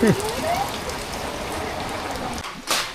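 Steady rain pours down outdoors, a dense, even hiss of drops on surfaces that runs throughout, with a voice speaking briefly at the start and a sharper burst near the end.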